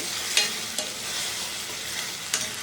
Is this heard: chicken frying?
yes